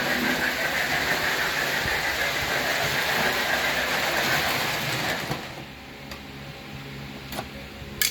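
An old Marx 666 toy train engine runs on its track with a loud, steady electric whir and hiss. After about five seconds it drops to a quieter hum with faint ticking clicks.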